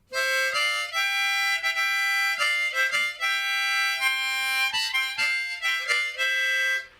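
A harmonica plays loose, breathy chords in a bouncy rhythm, several reeds sounding at once, close and steady throughout.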